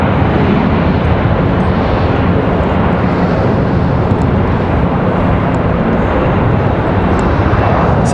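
A JetBlue jet airliner at Raleigh Durham airport gives a steady, loud, broadband engine roar that holds throughout without a break, close and dominant with no talk over it.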